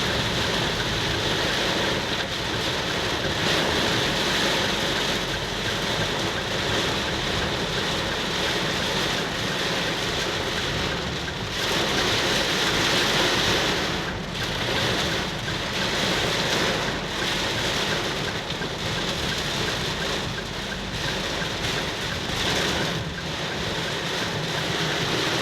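Heavy rain driven by strong wind on Jalan Raya Bandung in Cianjur, heard as a loud, unbroken roaring wash with gusty surges and no voices throughout.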